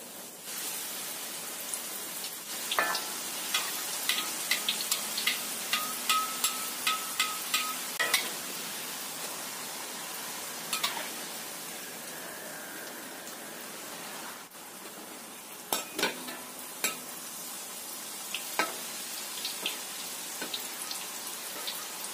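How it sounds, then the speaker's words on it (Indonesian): Krupuk crackers fry in a pan of hot oil with a steady hiss and sizzle, broken by scattered crackles and pops as the crackers puff up, with no talking. "Kita goreng yang selanjutnya."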